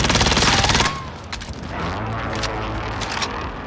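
A MAC-10 submachine gun firing in a video game, a rapid full-auto burst of loud close shots for under a second, then fading echoes and faint mechanical clicks.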